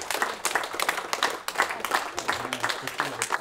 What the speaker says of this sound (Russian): Под бурные аплодисменты началось чествование юбиляров.